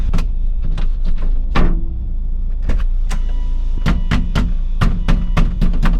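A Volvo XC70 sunroof being moved, heard as a run of sharp clicks and knocks at irregular intervals over a steady engine idle inside the car, close by.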